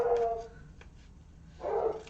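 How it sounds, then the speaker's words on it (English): A dog named Coco barks indoors, two short, fairly faint barks separated by a pause, heard from a short distance in an otherwise quiet room. "I don't know what Coco's barking at."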